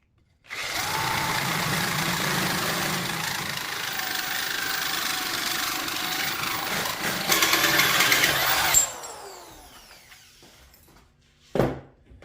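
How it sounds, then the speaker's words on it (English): A power drill whirs steadily for several seconds, then winds down as it finishes boring through metal on a Mazda, followed by a brief clank. "Put the drill up, and then just drill that hole out."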